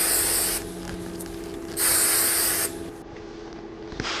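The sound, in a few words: volume hairspray being sprayed on hair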